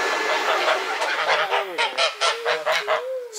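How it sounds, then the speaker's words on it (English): A cockerel in a backyard chicken coop gives a run of loud, close, honking calls, a harsh drawn-out cry followed by a rapid series of short repeated squawks. "There's Daddy Cockerel"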